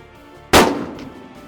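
A single loud gunshot at close range from a hunter's rifle while deer hunting, a sharp broadband crack that decays over about half a second, with no talk.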